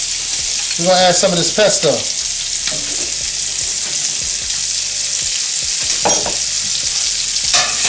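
Fat popping and sizzling in a hot frying pan on a turned-down flame, with garlic and butter going in, a steady crackle throughout with someone talking briefly over it near the start.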